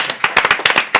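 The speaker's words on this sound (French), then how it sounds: "Ça mérite vos applaudissements." Sharp, close handclaps from an audience ring out in quick irregular bursts, a handful of distinct loud claps within about a second.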